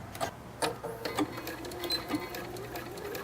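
A sewing machine fitted with a quarter-inch foot stitches cotton face-mask fabric, starting with a back stitch. Several close, clear stitching runs start and stop in short bursts.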